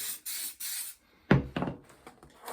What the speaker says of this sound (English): I'm just going to lightly spray